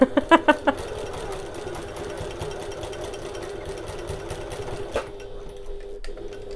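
Rapid mechanical stitching of a sewing machine running over fabric strap tabs, a few sharp stitch bursts at the start then a steady close whir that stops abruptly near the end.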